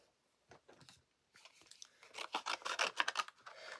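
Scissors cut out craft paper in quiet, close snips and crisp rustles. The cutting starts sparsely and then grows into a quicker run of cuts, with no talking.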